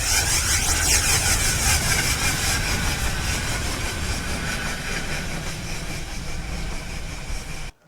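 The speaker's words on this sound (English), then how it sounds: "This is a steam train coming down." A steam train rumbles along the track with a steady chugging roar and rattling wheels, close and loud, cutting off abruptly at the end.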